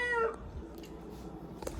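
A cat lets out a clear, rising meow at the start, followed by quieter room sounds and a faint knock.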